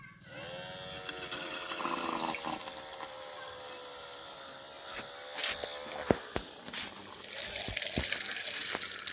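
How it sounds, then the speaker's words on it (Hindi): A homemade water pump built around a 775 DC motor whines steadily while throwing water out of a bucket, with splashing and a few sharp knocks toward the end. "तो गाइस आप देख सकते हैं यहाँ पर ये पानी फेंक रहा है"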